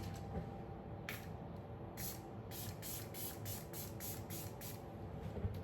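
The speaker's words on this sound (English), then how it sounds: "that I use here to spray any of the brushes if I want to" A series of short, sharp spritzes from a spray bottle onto makeup brushes, about ten quick bursts, several in rapid succession, close and clear over a low background hum.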